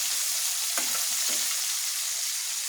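Fish deep-fries in a pool of hot oil, giving a loud, even, close hiss of bubbling that holds steady throughout, with a couple of brief dull knocks early on.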